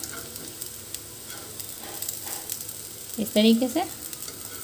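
A healthy snack made from one ingredient browns in a pan as it is flipped to cook on both sides, giving a quiet sizzle with scraping and clinking from the turning, while someone speaks briefly near the end.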